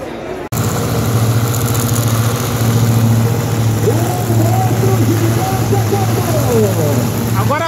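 Opala Carbon 4x4 with a blower and nitro, starting with a sudden jolt and then idling loud and steady close by, a deep lumpy rumble with occasional revs rising over it.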